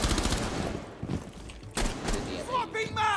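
Shotgun fire in the Rainbow Six Siege video game: several sharp, loud blasts in quick bursts, separated by brief lulls, mixed with busy in-game clatter and a rising electronic chirp toward the end.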